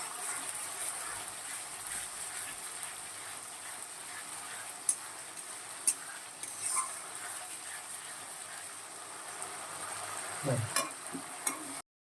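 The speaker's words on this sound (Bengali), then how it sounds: "এবার এটা খুব ভালো করে কষিয়ে নেব" Spice masala for doi chicken stir-fried in a pan, a soft steady sizzle with occasional sharp utensil clicks and a brief clatter near the end, fairly quiet overall.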